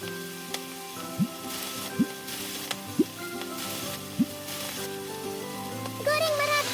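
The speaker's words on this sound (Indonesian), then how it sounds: "Sekarang goreng kepiting." Crab pieces go into hot oil in a pan, sizzling as a steady frying crackle, with a few sharp knocks and a louder burst of bubbling at the end.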